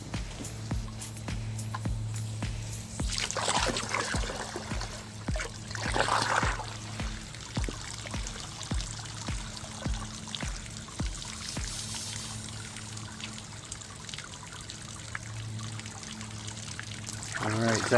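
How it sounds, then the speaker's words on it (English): Water from a hose runs and splashes into a bucket for a long stretch, with clicks and handling noises and a steady low hum underneath. "let's go ahead and put some water in the bucket"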